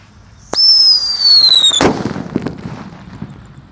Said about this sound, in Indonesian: yang akan kita nyalakan di sini ada Pearl Thunder. Ukurannya jumbo sekali.